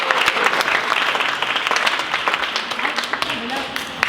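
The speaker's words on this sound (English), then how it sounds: "Please let's give a round of applause." A crowd applauds steadily, dense clapping filling the whole stretch at a fairly loud, even level.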